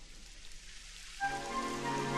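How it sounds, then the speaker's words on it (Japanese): Rain begins falling in the video game Dragon Quest XI, a steady hiss that swells in suddenly after a quiet stretch and continues as a dense, even patter with no talking. "やだ、雨が降ってきたわ。"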